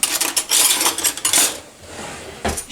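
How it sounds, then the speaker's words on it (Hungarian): A metal spoon scrapes and scoops seeds out of a halved pumpkin into a small dish, a run of close, bright scraping strokes followed by a pause and one final scrape. "és szépen a kis edényünkben kikanalazzuk a magokat, mert azok nem fognak kelleni."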